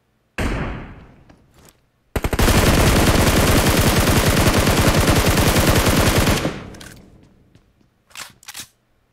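Gunfire in PUBG Mobile, one sharp shot and then a sustained loud burst of rapid automatic fire lasting about four seconds, followed by a couple of scattered shots as it trails off.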